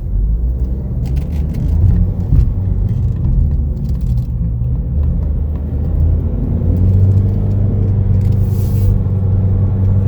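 2020 Chevrolet Equinox LT on Michelin tires pulling away on a test drive, a steady loud low engine and road rumble from inside the cabin that swells slightly as it accelerates, no talking.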